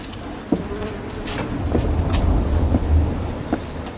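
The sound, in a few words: black honey bees buzzing around a hive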